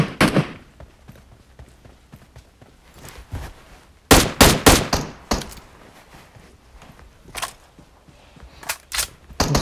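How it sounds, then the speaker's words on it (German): Gunfire in the mobile battle-royale game PUBG Mobile: scattered sharp reports, a tight burst of several shots near the middle and a few more single shots later, under faint background sounds. "Nochmal ein Schuss bei mir."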